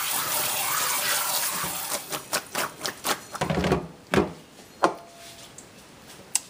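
Cold water from a sprayer hisses onto cooked pasta shells in a kitchen sink, a steady rushing spray that breaks into short bursts and spatters before trailing off into a few faint drips.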